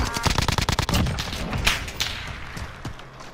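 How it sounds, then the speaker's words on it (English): Gunfire from another player in a first-person shooter video game: a rapid burst of closely spaced automatic shots, then scattered heavier thuds and single cracks trailing off, fairly loud and near. "There's somebody else shooting at us"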